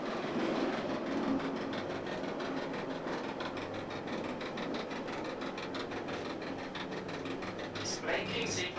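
MOB Golden Pass 5000 series motor coach on the Swiss railway, running with a steady rumbling roll and rhythmic wheel clatter heard from inside, plus a brief high squeal near the end.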